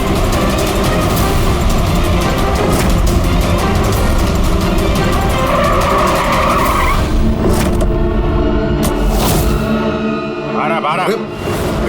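A car driving fast through a chase scene in a TV crime drama, with a loud, sustained engine roar and tire skidding; the sound thins near the end with sharp squealing chirps.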